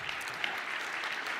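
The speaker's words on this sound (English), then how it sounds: "Yeah, clap for Evan." A conference audience at a React Conf talk applauds, a dense, even patter of many hands clapping briefly at moderate distance, with no voices over it.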